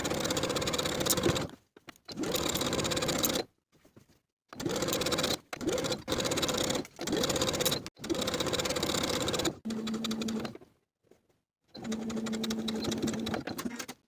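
Sewing machine stitching a single-layer collar to a dress neckline, in a series of loud close bursts of rapid whirring separated by short silent pauses as the fabric is repositioned.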